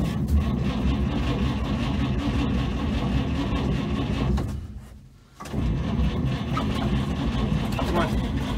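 A 1954 truck engine with no spark cranks over and over in a long grinding, rumbling run, pausing briefly before cranking again, loud and close.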